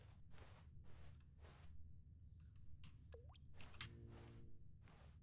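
Water drips in the video game Stanley Parable: Ultra Deluxe, a few separate plinks and a drawn-out bending drip over a low ambient hum, quiet overall.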